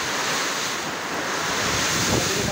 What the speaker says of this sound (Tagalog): Tama na ang hangin.